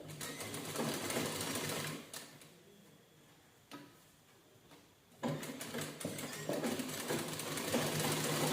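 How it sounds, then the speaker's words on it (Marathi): A sewing machine runs at a rapid, steady stitching rhythm on a blouse waistband, pauses briefly with a faint tick, then starts up again and keeps running. "आता आपण दाब शिलाई देऊन घ्या."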